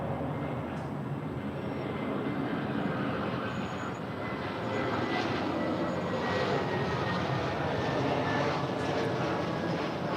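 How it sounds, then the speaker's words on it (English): Jet engine roar from a Delta Boeing 767-300 airliner departing LAX, a steady broad rumble that swells gently toward the end, continuous and fairly distant, with no talking. "And that is Delta 323 heading back to JFK 767-300."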